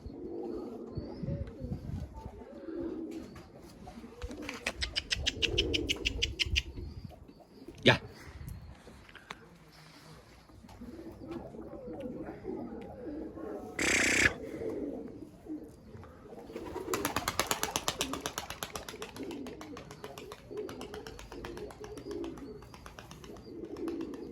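A four-year-old blue male tumbler pigeon flies near trees, with bursts of wing flapping and clattering alongside cooing birds; a person talks intermittently in the background.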